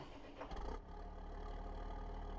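A tractor engine in Farming Simulator 17 cranks briefly and then settles into a steady low idle, heard quietly without talk.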